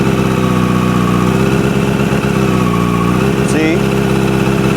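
A motorcycle engine idles steadily, its tone sagging and bogging briefly as the clutch engages and the bike lunges forward, then recovering; a constant close drone throughout.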